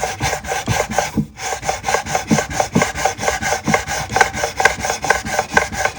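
Rhythmic abrasive rasping of sanding on electric guitar frets during a fret level, with pickups still installed, steady back-and-forth strokes repeating roughly twice per second, close and fairly loud with no voices.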